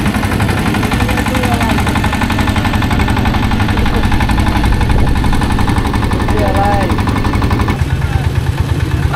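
A boat engine runs steadily and loudly throughout a short river crossing at Fulchhari ghat, where the Teesta meets the Brahmaputra, with faint voices underneath.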